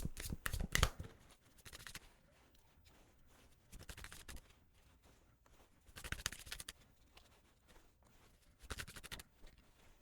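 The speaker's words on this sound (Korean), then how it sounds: "이렇게 카드 뽑아보았는데요" Tarot cards shuffled and drawn, several separate bursts of crisp riffling and flicking close up, with quiet pauses in between.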